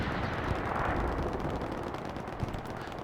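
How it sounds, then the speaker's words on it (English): Gunfire crackles through a competitive Hell Let Loose match on Utah Beach: a dense, continuous wash of distant shots and battle noise with a few sharper cracks standing out. "Scriv is shooting at him"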